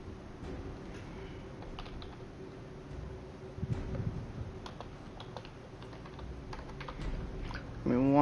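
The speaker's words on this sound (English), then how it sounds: "Sorry for the typing noise." Rapid clattering keystrokes on a computer keyboard, close and fairly quiet, tapping in uneven bursts throughout with a soft bump near the end.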